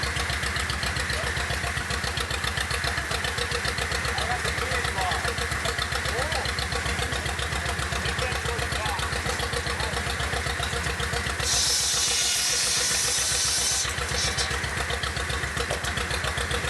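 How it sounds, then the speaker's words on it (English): Old gasoline tractor engine driving a belt-powered saw at an agricultural history museum, a steady loud chugging drone that runs unbroken throughout, with a brief high hiss partway through. "They started the tractor-driven power saw."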